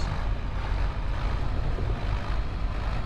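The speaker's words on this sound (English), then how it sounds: "Engine sounds happy with that." A tractor engine in the Farming Simulator 25 video game runs at a steady, loud, low rumble after a downshift, continuous and without talk.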